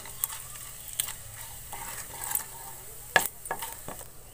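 Whole spices such as bay leaves and cloves crackle and get stirred in hot oil in a pan, with soft sizzling and a few sharp clinks of a spoon against the pan.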